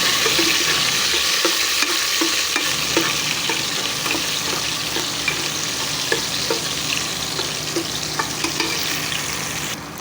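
Ginger sizzles steadily in a hot pan for a mung bean dish, with soft scraping stir strokes repeating throughout and no voices.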